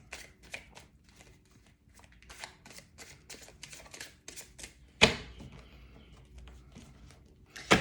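Quick, crisp flutters and clicks of playing cards being shuffled, with a sharper riffle burst partway through; no voices.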